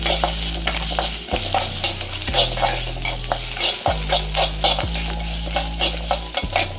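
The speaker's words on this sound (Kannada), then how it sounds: "ನೆಕ್ಸ್ಟು ನಾನು ಚಕ್ಕೆ ಲವಂಗ ಇರ್ತಲ್ಲ ಅದನ್ನು ಹಾಕ್ಕೊತೀನಿ. ಅದನ್ನು ಸ್ವಲ್ಪ ಫ್ರೈ ಮಾಡ್ತಾಯಿದ್ದೀನಿ." Cinnamon and cloves fry in a pan with oil for chicken biryani, a steady close sizzle broken by repeated metal stirring scrapes in an uneven rhythm, with a low hum underneath throughout.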